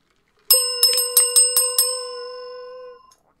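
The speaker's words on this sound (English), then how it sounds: "I'm going to ring the bell, people." A bell is rung six times in quick, bright strikes, with the last tone ringing on and slowly fading to silence; the sound is clear and close, with nothing else heard.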